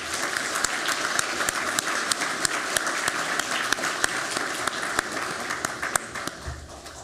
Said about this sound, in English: Please join me in giving Chris a round of applause